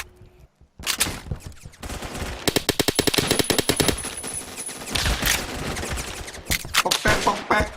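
Rapid machine-gun bursts and single gunshots from a Phantom Forces online shooter match, loud and close, firing almost without pause in dense volleys after a brief quiet start, with shots layered from several weapons.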